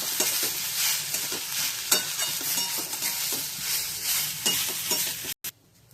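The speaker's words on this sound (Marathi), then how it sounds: "यामध्ये आता आपण घालणार आहोत मुगाची डाळ. डाळ पण छान मिक्स करून घ्यायची आहे." Moong dal being stirred into a radish chutney in a pan: a busy frying hiss with repeated spoon scrapes and knocks against the metal, ending in a brief silence and a last faint sizzle.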